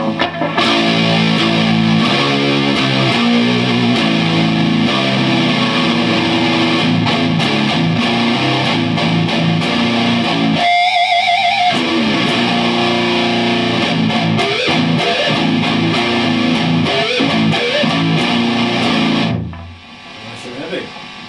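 Electric guitar played through a TC Electronic Rush boost pedal at full volume, loud sustained chords with an effects-heavy, driven tone, a brief gap near the middle, then ringing to a fade at the end.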